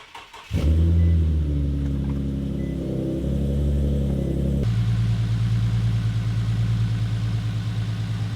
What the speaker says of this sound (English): I just raised the RPM a little bit to get the car to running temp.